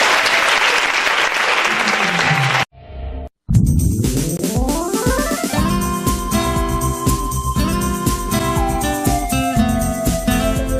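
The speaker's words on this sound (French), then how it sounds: "Acclamons Jésus" A church congregation applauds loudly and steadily for about three seconds, then after a short gap clapping resumes with bright music and chiming tones rising under it, the applause continuing throughout.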